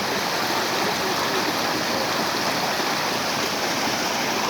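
Loud, steady roar of water rushing down a waterfall at a dam in Balasore, a dense, unbroken close-up wash of white noise with no voices.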